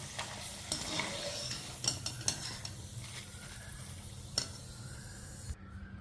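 Sweet potato fries frying in hot oil, with a continuous soft sizzle and bubbling and occasional sharp clinks of a utensil stirring against the pan.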